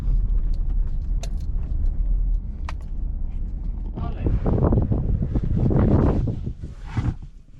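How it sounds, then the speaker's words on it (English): Strong wind gusts buffet the microphone outdoors on a farm during cotton planting, with steady low rumble throughout and harsher, louder gusts in the second half; brief faint metallic clinks appear early. "It's very windy outside, so I'll try to still film some stuff."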